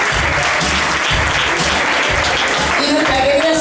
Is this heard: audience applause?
yes